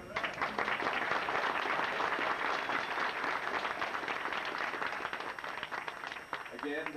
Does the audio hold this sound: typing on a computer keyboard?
no